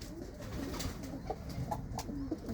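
Pigeons of a long-flying breeder flock coo softly in a loft, several low rounded calls repeating in short bursts over quiet background noise.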